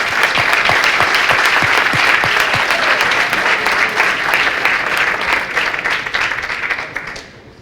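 Boys in the audience at a school's annual dinner clapping, a dense, steady round of applause that holds strong for several seconds before tapering off at the end.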